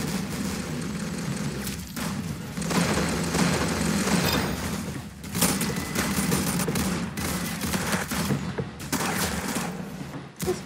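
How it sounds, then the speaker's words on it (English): A minigun fires in the Roblox game Arsenal, a long loud rattling stream of rapid shots with brief dips and restarts, dense and close throughout. "It's a minigun"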